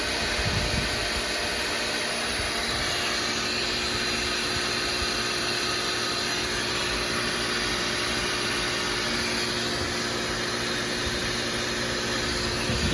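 A water pump for an RO system runs with a cycle stop valve, a steady loud hum and rushing hiss holding constant throughout without pauses.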